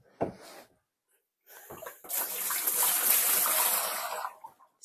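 Water rinses out a Drop wash/spin dryer, a close gushing splash that builds over a few seconds after some short knocks and breaths, then trails off.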